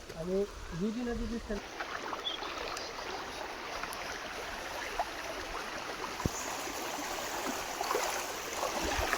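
Floodwater rushing along a swollen river after rain, a broad steady roar of flowing water that stays loud and continuous throughout, with someone briefly talking over it near the start.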